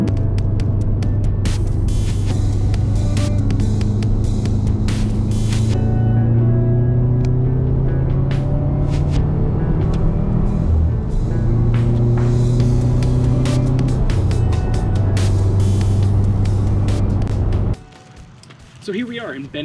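A 2007 Subaru WRX drives along Route 7 in Vermont, a steady in-cabin engine drone and road rumble that rises and shifts in pitch with speed, under a voice speaking, before cutting off near the end.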